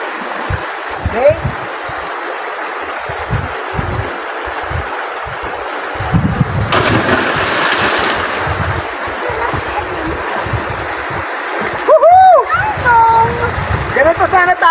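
Children splash into water outdoors, with a stretch of loud splashing and churning in the middle while kids talk and shout excitedly throughout.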